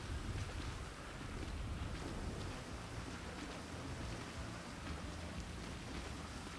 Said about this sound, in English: Let's get inside. It's fucking raining bad.